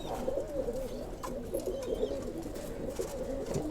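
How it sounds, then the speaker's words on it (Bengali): Home-kept pigeons coo steadily in a continuous low murmur for several seconds, close by with mild background noise and no speech. "এক পেয়ার কবুতর আমাদের বাসার খুবই সুন্দর কবুতর"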